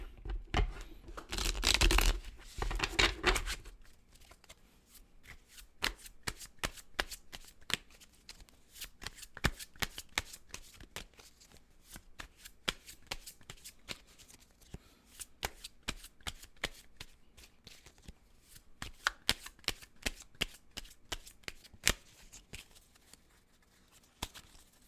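Tarot cards shuffled close up at a tabletop reading: a dense riffling burst at the start, then a long run of crisp, irregular card slaps and flicks.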